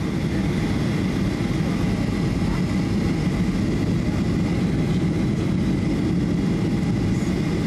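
Steady, loud drone of an airliner cabin during a landing approach, a dense low engine roar with constant broadband rush that holds evenly throughout, with no talking.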